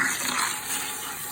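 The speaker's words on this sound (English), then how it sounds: "So now we're gonna go ahead and rinse this off." Running water from a shower rinsing shampoo out of hair, a steady close hiss of spray with no voice over it.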